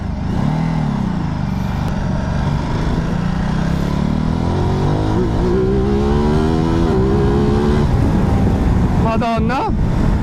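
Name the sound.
motorcycle accelerating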